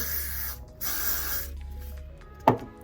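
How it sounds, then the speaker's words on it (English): Bursts of Got2b hairspray hiss, two longer sprays close to the mic followed by a short one, then a small sharp tap near the end. "You're going to spray it with a little bit of this Got2b spray."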